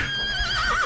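A horse neighs in a comedic Portuguese time-travel story about the Mongol Empire, where warriors ride horses into battle; one loud, close whinny that rises and wavers into a shaky trill near its end.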